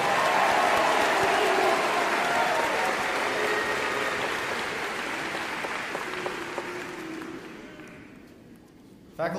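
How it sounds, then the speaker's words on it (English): Sustained applause from a large audience at a 2023 Central Catholic High School graduation ceremony honoring the valedictorian, dense and loud at first, then gradually thinning and fading toward the end. "One more round of applause for your valedictorian, Mr. Luke Hospenthal."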